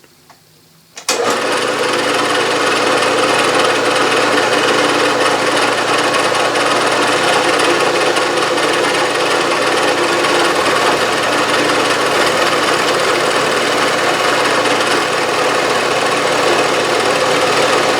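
Bridgeport milling machine cutting a metal crank adapter on a rotary table, fed along the y-axis: a steady, loud, close grinding rasp that starts abruptly after a second of quiet and runs on without a break, with no talk.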